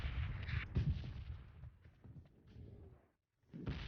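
Gunfire from a PUBG Lite match on an Asian server: dense, loud bursts of shots and booming impacts for about three seconds, then a brief drop to silence before another loud burst.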